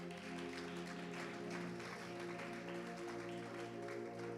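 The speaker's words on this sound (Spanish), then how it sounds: "Dele un aplauso al Señor." Church congregation applauding during a Spanish-language sermon, a steady wash of clapping over sustained tonal music or organ, moderately faint and continuous throughout.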